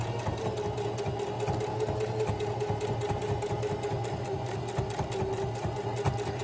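A sewing machine runs steadily, zigzag stitching a black and yellow seam on fabric for tie-side shorts, its rapid mechanical chatter close and continuous, with no talking.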